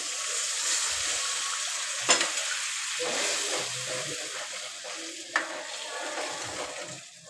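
Ragda frying in a pan with onions, tomatoes and red chili powder, a soft continuous sizzle with a couple of sharp utensil clinks, fairly faint.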